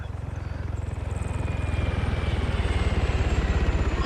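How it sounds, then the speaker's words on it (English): A helicopter flies in within the Arma 3 video game, its steady rotor thump chopping rhythmically and growing louder and closer over a broad engine roar, with no voices over it. "Here comes the chopper in."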